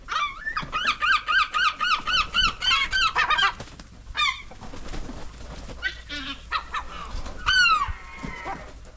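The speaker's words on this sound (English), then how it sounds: "Attack of the seagulls." Seagulls on the Welsh coast calling close by, a rapid series of loud, repeated squealing yelps at first, then scattered overlapping cries and squawks from several birds.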